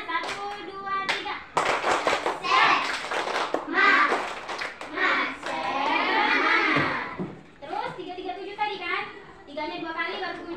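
Schoolchildren in a primary classroom do a rhythmic class clapping chant, bursts of sharp claps in patterned counts mixed with loud children's voices and a teacher's voice.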